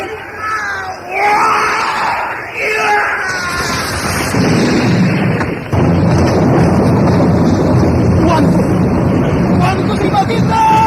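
A blocked river bursting open in an audio drama: a rushing, crashing surge of water and debris builds after a few seconds and roars on loudly, with shouting voices and cries heard at the start.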